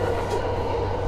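A JR Yamanote Line train hums steadily from inside the car, a continuous low rumble with a faint higher whine and no distinct clatter over the short stretch.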